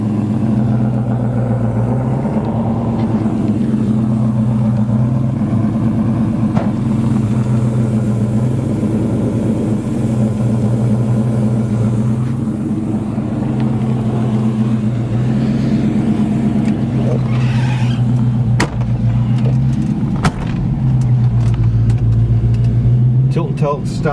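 A 1937 Ford Cabriolet hot rod drives at a steady pace, its engine droning low and close throughout, while people talk inside over the running motor.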